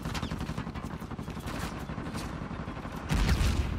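Rapid video-game gunfire rattles in continuous bursts as bullets punch through a wall, a dense fusillade at moderate distance that swells louder near the end.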